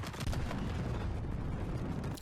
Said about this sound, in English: Modern Warfare finally downloaded its update, and I was able to play its campaign, where after a pretty explosion